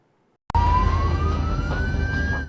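An ambulance siren sounds on a road in Ordu, starting abruptly and wailing loud and steady with a slowly rising pitch over heavy traffic rumble, with no talking.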